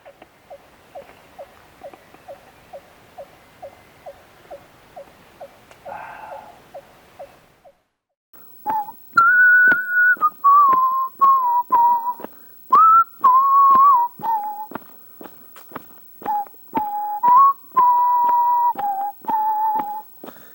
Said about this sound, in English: If you know what song I just whistled, leave a comment down below.